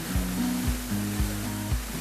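A small waterfall at Toya Bulan in Bali makes a steady rushing wash of water, moderately loud and close, with a few low thumps recurring at regular intervals beneath it.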